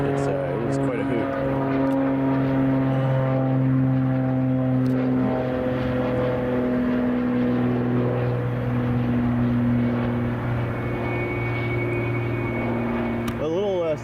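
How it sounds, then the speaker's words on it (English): A Cape Air Cessna 402 twin-prop departs at O'Hare, its throaty droning growl running steadily in the background beneath continuous talking. "There was a Cessna 402 from Cape Air that decided to depart, so had the nice growl of a Cessna 402 in the background"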